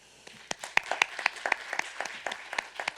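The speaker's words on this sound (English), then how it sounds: "can we give one more round of applause to Dean Cole" An audience at a panel on the Black Church and religious freedom applauds, with close, crisp individual claps rising into a steady round of clapping.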